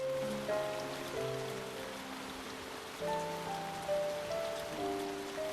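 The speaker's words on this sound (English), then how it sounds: "Definitely looks like a rainy evening" Rain falls steadily on a park in Maddon Park, northern England, in the video game Lushfoil Photography. It is a soft, continuous patter under gentle, slow musical notes.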